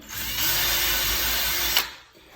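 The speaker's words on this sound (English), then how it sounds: "You don't have to drill all the way through" Power drill boring screw pilot holes into a wooden door with a small bit, a steady loud whine for about a second and a half that spins up and then cuts off.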